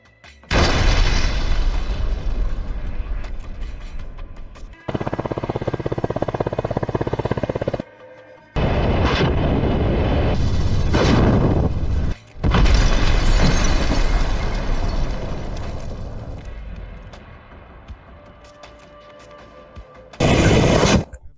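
Loud, repeated explosion blasts from a strike on a Ukrainian drone launch pad in Sherigov, heavy booming bursts that rumble on for several seconds each, separated by brief gaps, with a final short blast at the end.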